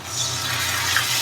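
A small splash of water poured into a pan of Bengali fish curry with tomato sauce, a steady broadband trickling that holds evenly for about a second with no talk.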